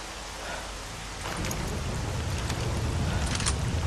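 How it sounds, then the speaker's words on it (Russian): Rain falls in the game MISERY 2.0, a dense hissing patter with a low rumble that swells and grows louder after the first second, punctuated by a few sharper drops and crackles. "О, как я ненавижу дождь."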